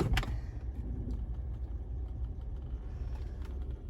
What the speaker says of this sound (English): Let's throw it in reverse and show what we got.